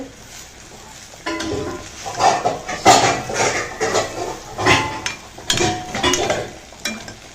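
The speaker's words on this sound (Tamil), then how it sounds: "இந்த சைடு ஃப்ரை ஆகிட்டுருக்கு" Food frying in a pan beside a simmering gravy makes a sizzle that swells and fades in waves as it is stirred, with scraping and metallic pan knocks up close and no voices.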